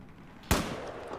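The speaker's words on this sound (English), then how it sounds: "I shot that guy through the trees" A single sharp gunshot cracks out in Battlefield 4 multiplayer, a sudden loud report that decays quickly into a low rumble over quiet background.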